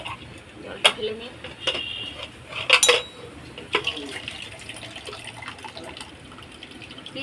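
Water is poured off boiled potatoes in a home kitchen, with splashing and a light trickle mixed with sharp clinks of a metal pot and utensils close by, loudest early on and then settling to quieter dripping.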